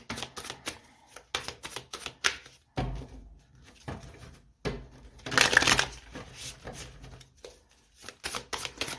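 Tarot cards being cut and shuffled by hand, heard as close, crisp bursts of riffling and card slaps in irregular runs with brief gaps, with no talking.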